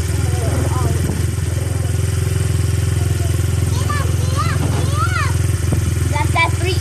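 A dirt bike engine idles steadily at close range with a constant low rumble, while people talk over it.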